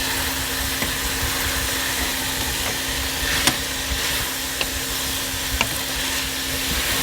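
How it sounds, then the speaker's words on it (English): Leeks cooking over medium heat in a pot, a steady soft sizzle with occasional light clicks of stirring, close and continuous with no talking. "I'm going to let that cook over medium heat for about 7 minutes, stirring occasionally so nothing sticks to the bottom"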